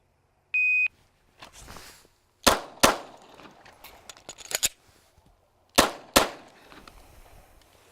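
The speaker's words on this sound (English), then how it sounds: "with the stock 19C, 2 rounds on the target, magazine reload, and then 2 more rounds" Two sharp shots from a stock Glock 19C compensated pistol, a pause with faint metallic handling during a magazine reload, then two more sharp shots, each loud and close with short ringing tails, preceded by a shot-timer beep.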